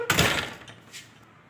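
A door is pulled open with a brief clunk and rattle, followed by a softer knock as it settles.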